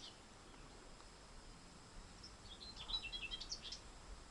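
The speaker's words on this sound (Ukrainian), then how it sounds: "Прекрасний миловидний ставочок, де співають чудово птахи." Birds chirping and singing by a pond, faint and distant at first, with brighter, busier calls rising toward the end over a low outdoor background hum.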